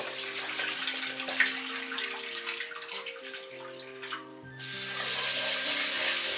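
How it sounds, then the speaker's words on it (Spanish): White rice being washed under a running tap, with grains swished in water in a kitchen, then a stronger, steady faucet stream near the end. Close and continuous, without speech. "Lavamos unos 3 veces más o menos"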